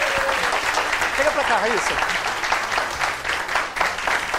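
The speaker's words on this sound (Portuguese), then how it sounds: "Palmas aí, então, a nossa querida Raíssa." Applause from an audience at an evening event rolls steadily throughout, a dense clapping wash under someone speaking briefly over it.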